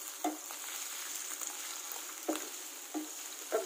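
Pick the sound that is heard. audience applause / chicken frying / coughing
chicken frying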